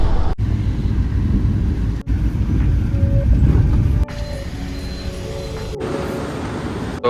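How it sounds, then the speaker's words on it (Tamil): A train heads out from Ooty, heard as a loud, steady rolling rumble with mechanical whines and brief gaps between separate segments, no voices present. "ஸோ இதாங்க ட்ரெயின்."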